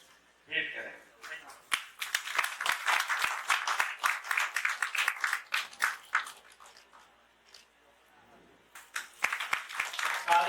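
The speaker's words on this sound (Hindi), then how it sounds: "तालियां बजती रहे।" Audience applause at a Hindi Day ceremony at the Bihar Hindi Granth Academy in Patna, bursts of clapping rising and fading, with a lull before clapping resumes near the end.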